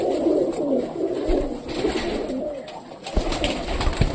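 Pigeons coo close by in soft, rounded, repeated calls that overlap one another, with a few light rustles and thumps and no voices.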